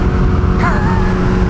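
A turbocharged Suzuki Hayabusa motorcycle engine runs loud and close on a dyno in third gear, a steady roar that rises in pitch partway through as it revs.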